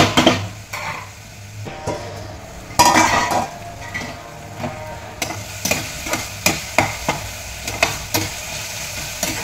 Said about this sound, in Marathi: झाकण ठेवायचं आणि गॅसवर कांदा टोमॅटो भाजून घ्यायचा